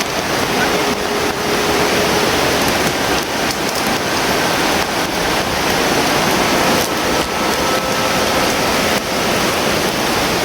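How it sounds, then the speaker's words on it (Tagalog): Heavy rain pours down in a steady, dense roar that fills the whole scene without a break, loud and close, with no clear voices over it. "lakas talaga ng ulan"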